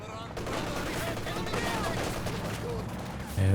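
Sustained machine gun fire in the strategy game Company of Heroes 2, a dense rattling burst running continuously at moderate distance, with a voice talking over it.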